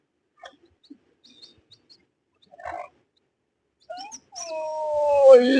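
A newly hatched chick, just out of its egg, peeps in a few sparse faint chirps, then breaks into loud, rising, insistent cheeping that grows stronger and continuous toward the end.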